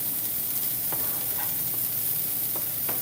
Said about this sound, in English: So I let the oil or the butter kind of burn out of it and give it a nice little stir.